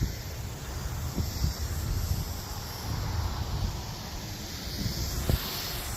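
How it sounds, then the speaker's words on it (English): Wind blowing outdoors at night where a hexacopter drone is flown, heard as steady broadband rushing and microphone buffeting with occasional low thumps of gusts, moderately loud and continuous, with no voices. "It's very windy."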